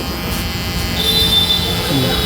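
An electric hair trimmer, set to a 0.3 cut and held upright, runs close by with a steady high-pitched buzz that swells slightly as it works through hair in a haircut. No one speaks over it.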